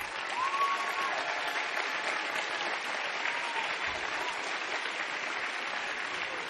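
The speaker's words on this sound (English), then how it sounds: "Stand thyselves up and let us clap for you." Audience at a university student forum applauding performing arts students, dense sustained clapping from a large crowd, steady and even throughout with no talking over it.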